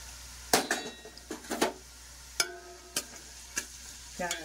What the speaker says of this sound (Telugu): ఉల్లిపాయ మగ్గుతూ ఉంటుందండి.